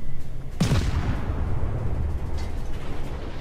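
A single heavy warship gun salvo from World of Warships booms out, followed by a long rumbling decay over steady ocean and engine ambience.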